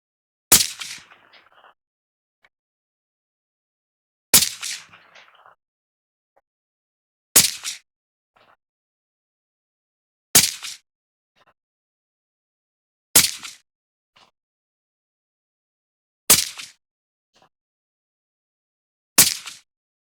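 A Savage rifle firing Hornady TSS ammunition, seven sharp, loud shots spaced about three seconds apart, each followed by a short fading echo and near silence between.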